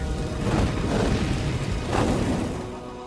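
Fire-bending effect from an Avatar visual novel game, two loud whooshing bursts like roaring flames, each swelling and fading within a few seconds, with no talking.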